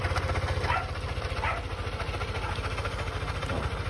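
A Yamaha NMAX V2 scooter idles with an abnormal, noisy engine sound, a steady close low throb with fast regular pulsing that runs unchanged throughout.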